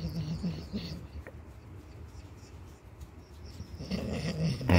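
A dog makes low growling, grumbling sounds in short bursts, close by, with quiet stretches in between.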